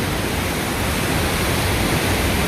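Flood water of the Jhelum river rushing in a loud, steady, broadband roar that fills the whole moment without a break.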